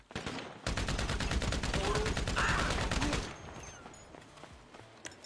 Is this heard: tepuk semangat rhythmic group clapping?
no